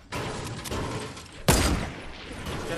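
Gunfire in a squad battle game: scattered distant shots crackle under a steady rumble, then one loud, close blast hits sharply at mid-clip and fades into echoing noise.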